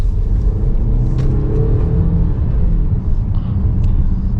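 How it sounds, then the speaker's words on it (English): A 2022 Mercedes GLC 300 4MATIC SUV with a nine-speed automatic gives a steady, loud engine rumble under acceleration from inside the cabin, with no talk. "It really goes once you give it some gas."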